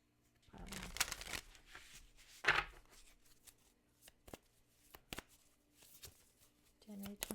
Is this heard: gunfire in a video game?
no